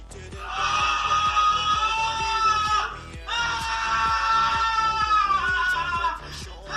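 Shrill screaming of a victim in a Freddy Fazbear horror story, two long loud wailing cries separated by a brief pause, over steady low rhythmic thumps.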